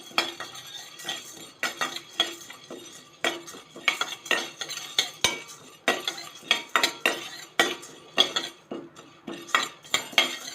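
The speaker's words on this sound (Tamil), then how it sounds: "இப்போ பாருங்கள், கடலைப்பருப்பு வறுபட்டுருச்சு" Chana dal dry-roasting in a pan on low heat, with frequent rhythmic scrapes and clinks of a spoon stirring the lentils against the metal, close and alone.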